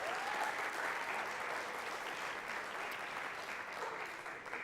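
Dense, sustained applause fills the room at a charity cabaret show, a crowd clapping steadily and evenly for several seconds without any talking.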